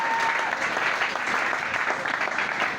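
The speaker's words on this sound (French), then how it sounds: "Tu peux acclamer pour le roi des rois." A church congregation applauds and cheers at a Sunday service, with dense, continuous clapping that fills the whole stretch and stays loud and close.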